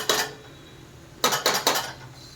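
A metal lid set onto a cooking pot of vegetable biryani over medium heat: one sharp clang, a pause, then three quick ringing clatters as it settles, close and loud.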